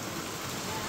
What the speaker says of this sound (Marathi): परत जोरात आला पाऊस